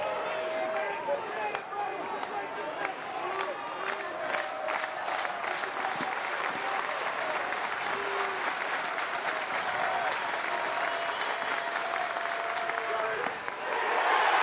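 A stadium crowd at a college baseball game between Florida and South Carolina cheers and applauds after a called third strike ends the inning. The loud, continuous mass of clapping and shouting fills the whole stretch without letting up.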